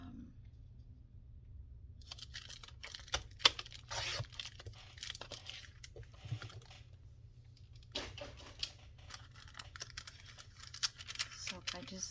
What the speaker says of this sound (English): I think I'm going to cut it about right here, and then I'm going to fold that side back